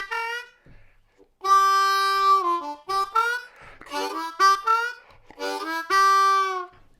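A blues harmonica plays a lick from a song: clear reedy held notes and quick draw-note phrases with bends, played alone and close, separated by short breaths.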